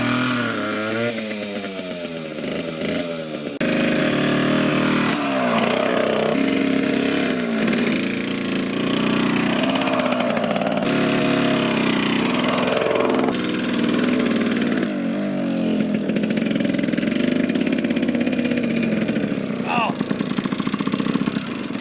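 A Yamaha GT80 two-stroke dirt bike engine idles with a steady, buzzy putter, close and loud, and voices talk over it throughout.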